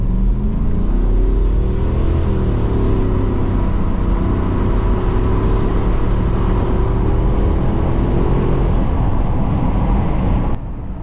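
Holden VN V8 wagon accelerating from a standstill toward 100, a loud deep engine roar rising in pitch through the gears with a brief dip at a shift, then cutting off abruptly at the end.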